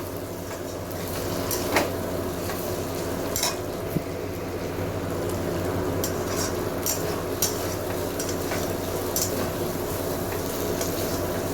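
Spice masala being sautéed in oil for matar ghugni, a steady bubbling sizzle in a pan with occasional stirring scrapes and clinks, close and continuous with no talking.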